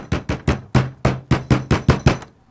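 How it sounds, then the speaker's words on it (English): A hammer bangs bent metal down flat with ten sharp, evenly spaced metallic blows, loud and close, each ringing briefly before the next strike. "it's going to get real noisy here, but I'm going to take my hammer"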